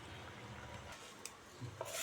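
Faint scraping and stirring in a pot, a spoon moving through thick brinjal and drumstick kootu with a soft bubbling simmer underneath.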